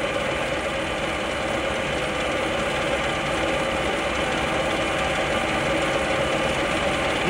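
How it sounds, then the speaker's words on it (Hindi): A TOS OHA-12A high-speed automatic gear shaper runs through its feed stroke with a steady, dense mechanical clatter and rapid ratcheting, continuous and close, with no voices. "डेप्थ कंप्लीट होने के बाद अभी ये मशीन फिर से अपना फीड में चल रही है"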